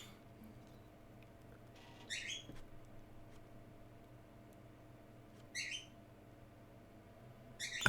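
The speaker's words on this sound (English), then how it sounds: "If you're hearing a bird in the background, that's my pet bird, Reggie." A pet bird named Reggie squawks faintly in the background, three short bright bursts spaced a few seconds apart over a quiet, low steady hum.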